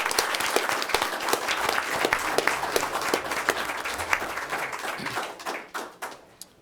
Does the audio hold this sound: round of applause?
yes